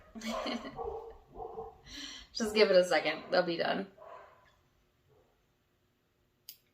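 Dogs bark indoors, loud yapping bursts mixed with a person talking, then quiet with a single faint knock at the end.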